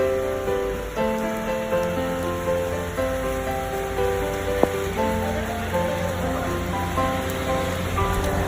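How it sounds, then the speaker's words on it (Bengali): Steady rain falls in the clouded Darjeeling hills at about 5,000 feet, a continuous even hiss that stays constant throughout, with a faint tonal hum running beneath it. "আমরা বাইরে সিনারি করি, বৃষ্টির ভিডিও।"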